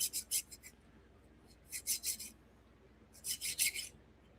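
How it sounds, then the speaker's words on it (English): A hand file rasps against bicycle metal to remove a burr on a Schwinn, heard as three separate bursts of short scraping strokes with quiet pauses between them. "And it's taking off a burr right now."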